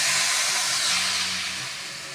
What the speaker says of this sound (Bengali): গুড়টা গলাবার জন্য সামান্য পরিমাণে জল দেব, তাতে গলে যাবে